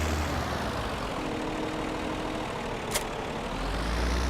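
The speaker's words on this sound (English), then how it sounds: "Now this tractor is supposed to be underpowered for this windrower." Tractor engine in a farming video game, pulling a large windrower, drones steadily at a constant heavy low pitch with a brief faint click near the end, no voices over it.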